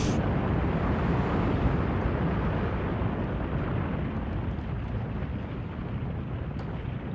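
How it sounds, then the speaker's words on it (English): A sustained, dense roaring crash of a wall coming down in Pink Floyd's The Wall, loud and broadband from the very start and holding steady with only a slight fade over several seconds. "with a crash, with a bang, the wall has come down."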